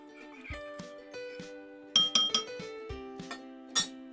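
A spoon clinks and taps against a glass bowl while stirring ginger sauce, a series of light, ringing chinks with a few quick clusters, close and fairly quiet with no talk.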